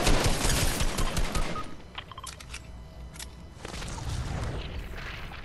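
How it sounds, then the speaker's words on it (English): Fortnite gunfire crackles in a loud, dense volley at first, then thins into scattered shots and game effects before another steady wash of firing returns. "He just shot me."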